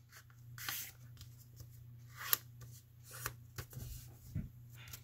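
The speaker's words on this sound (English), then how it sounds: "now I'm going to fold that to make a square" A paper rectangle is creased and folded into a square, giving soft, close rustles and crinkles with a few sharper creasing snaps over a steady low hum.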